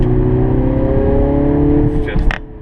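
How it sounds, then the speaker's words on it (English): A 2017 Mini Clubman John Cooper Works All4 engine and exhaust give a loud, close, steady droning note that drops away near the end, followed by a few short knocks. "Power at your foot, you've got a lovely soundtrack from the engine"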